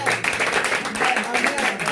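A church congregation at a Mission Restauration service claps and cheers to acclaim Jesus, a steady dense wash of applause mixed with raised voices.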